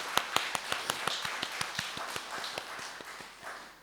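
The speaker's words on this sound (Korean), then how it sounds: "함께하신 주님께 우리 감사의 박수 드릴까요?" A congregation at an early-morning church worship service claps in thanks, with crisp, evenly spaced claps in a quick steady rhythm that gradually soften toward the end.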